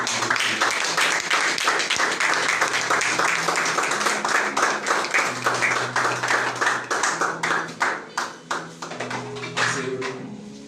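A church congregation applauds and cheers at a Christian worship service, dense sustained clapping filling the space with crowd voices mixed in, thinning into scattered claps near the end.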